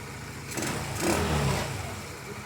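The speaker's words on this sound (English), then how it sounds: "And it idles." A Honda CT70 clone motorcycle engine, recently repaired for a bent valve, idles with a steady low putter and a short swell in engine noise partway through, heard nearby.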